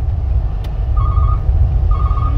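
A truck-style reversing beep alarm added to a modified Suzuki Carry sounds two steady electronic beeps about a second apart over a loud low engine rumble.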